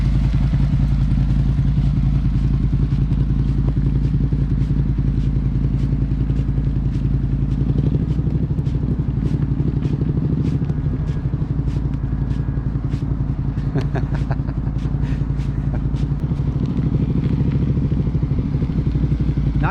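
Motorcycle engine idling steadily and picking up a little throttle during a first riding lesson, a continuous close rumble with faint clatter and no voices.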